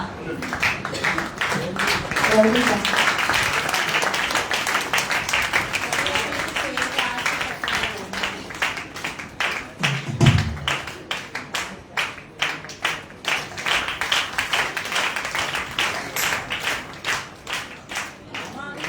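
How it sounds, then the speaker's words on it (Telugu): A group at a New Year gathering claps to cheer on children, quick rhythmic applause that settles into regular beats, with voices talking over it at first. "మిగిలిన వాళ్ళు చప్పట్లు కొడుతూ పిల్లల్ని ప్రోత్సహించండి."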